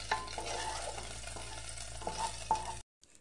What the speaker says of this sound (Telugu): ఇప్పుడు ఇందులో 2 టేబుల్ స్పూన్ల క్యాప్సికం ముక్కల్ని, అలాగే సన్నగా తరిగిన క్యారెట్ ముక్కల్ని, సన్నగా తరిగిన 1/4 కప్పు క్యాబేజీ ముక్కల్ని వేసి ఫ్రై చేయండి